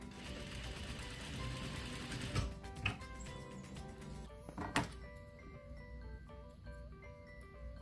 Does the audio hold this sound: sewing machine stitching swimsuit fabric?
yes